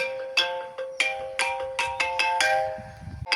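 A mobile phone ringtone for an incoming call, a bright melodic tone repeating in rhythmic bursts, loud and close, with no talk over it.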